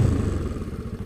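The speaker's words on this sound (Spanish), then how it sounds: "probar la frenada de esta maravillosa motocicleta" A Bajaj Pulsar 200 NS motorcycle braking hard, its engine note dropping into a low, rough, clattering rumble that stays loud and close for about a second with no one talking.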